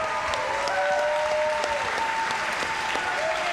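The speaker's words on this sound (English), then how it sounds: "one more round of applause, folks" A crowd at the Classic Tetris World Championship semifinals applauds steadily, dense and continuous clapping filling the hall, with faint voices mixed in.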